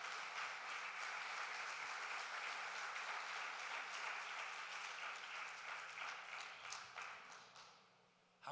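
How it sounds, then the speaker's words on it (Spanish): A church congregation claps together in praise, a dense, sustained wash of applause that holds steady before thinning and fading out near the end. "Dele palmas al Señor en esta hora."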